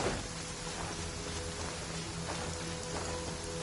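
Heavy downpour in a video game, a dense, constant hiss of rain pattering on surfaces at even loudness throughout, with no voices or other sounds breaking through.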